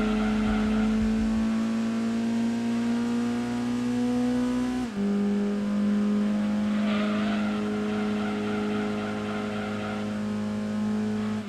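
A Lancia Delta HF Integrale racing engine in Gran Turismo 2 holds a loud, steady drone that climbs in pitch, then drops sharply as it shifts gears around the midpoint and climbs again, with no talk.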